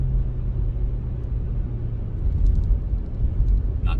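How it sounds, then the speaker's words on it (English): A Dodge Magnum runs while driving, a low, steady engine rumble with road and cabin noise, close and fairly loud, rising slightly toward the end where a brief higher squeak cuts in. "We finally got the Magnum. She's finally running okay."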